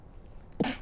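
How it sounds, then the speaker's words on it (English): A single brief sneeze, faint and quick, over quiet room background. "Bless you."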